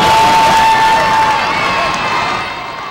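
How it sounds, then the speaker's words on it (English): A large football game crowd cheers and roars loudly, a dense wash of voices with a faint whistle tone early on, slowly easing off toward the end. "Listen to this crowd."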